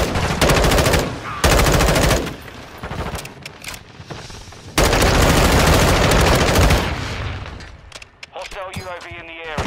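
Sustained automatic M4 rifle fire in a Modern Warfare 2 match, long loud bursts of rapid shots separated by short gaps, with quieter game effects and a tapering rattle near the end.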